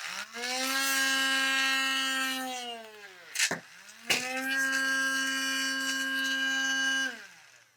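The servo motor of a standalone cheese-throwing robot whines steadily in a rising, then falling, pitch, broken by two sharp clacks midway, close and fairly quiet.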